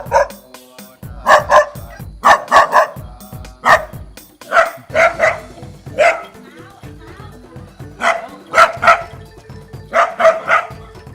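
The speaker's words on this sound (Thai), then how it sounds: "มีน้องหมาประจำซอยมาเห่าใส่แบบนี้" Neighborhood dogs bark at a pig walking behind monks on an alms round: a near, loud run of repeated barks and yips from several dogs, overlapping in irregular bursts throughout.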